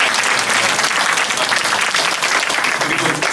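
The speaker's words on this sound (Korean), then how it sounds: "다시 한번 박수 한번." A church congregation at a Korean worship service applauds: dense, steady, loud clapping from many hands sustained throughout, with no talking over it.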